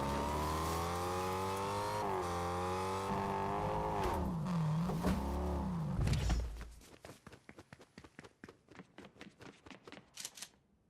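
A car engine drives in Fortnite, humming loud and close with a pitch that rises and falls for about six seconds. It then cuts out, leaving a string of light clicking and tapping sounds.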